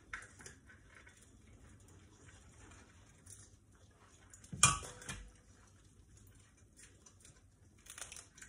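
A single sharp metallic clank of a six-litre cooking pot near the midpoint, with a few softer clinks and rustles around it in an otherwise quiet room.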